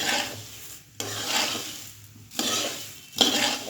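Puffed rice (muri) dry-fries in a pan, crisp rustling and scraping in three stirred bursts with short gaps, close and fairly soft, no talking.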